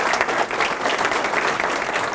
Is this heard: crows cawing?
no